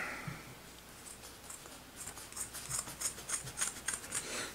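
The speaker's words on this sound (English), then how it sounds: "So now all I got to do up here is cut this down the middle here" Scissors cut through material down the middle, a quick series of crisp, close snips in a steady rhythm against a quiet background.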